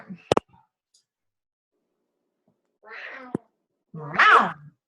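A cat meows twice, the second call louder and drawn out, after a couple of sharp clicks at the start, with silence in between.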